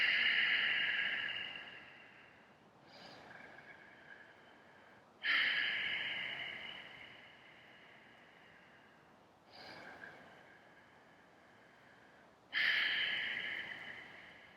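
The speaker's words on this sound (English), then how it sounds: "I just started breathing deeply inside my belly." Slow deep belly breathing, each long inhale and exhale audible up close, repeated in a calm, unhurried rhythm with quiet pauses between breaths.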